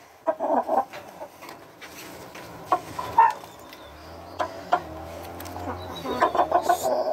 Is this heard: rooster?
yes